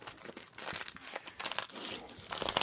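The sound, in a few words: crinkly duck dog toy being crinkled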